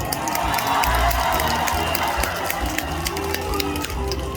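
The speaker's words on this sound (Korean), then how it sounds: "여러분, 박수로 맞아주시기 바랍니다." A crowd at an outdoor street-naming ceremony for a singer applauds and cheers, a loud, busy mix of clapping, voices and whoops with scattered sharp clicks throughout.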